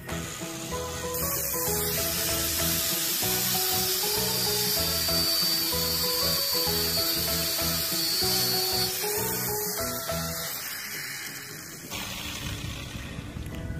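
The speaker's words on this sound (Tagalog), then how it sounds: "i-grind lang po natin para matanggal po natin yung bakal" An angle grinder cuts steel off a disc brake during a brake repair, a loud continuous grinding whine with a high metallic hiss, steady for most of the stretch before easing off near the end.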